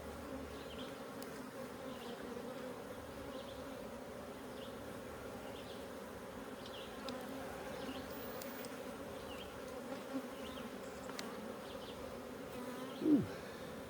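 Honeybees buzz steadily around an opened secondary hive during a health check, a continuous close droning hum with a few individual bees zipping past near the end.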